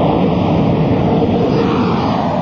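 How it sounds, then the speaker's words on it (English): An old Boeing 727 jet climbs slowly after takeoff from a busy airfield. Its engines give a loud, unbroken, steady roar throughout, with no voices over it. "The 727 is a very old jet, and they don't climb very well."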